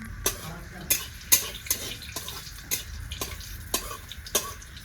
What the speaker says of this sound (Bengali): লঙ্কাগুলো একটু ভাজা হয়ে যাক